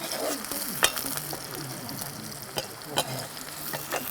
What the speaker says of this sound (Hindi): और फिर इसको अच्छे से भून लेती हूँ।